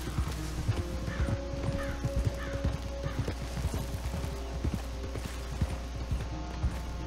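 Horse hooves clip-clopping at a steady walking rhythm in Red Dead Online, close and distinct over a low constant background drone, with occasional snorts and light mechanical rattles.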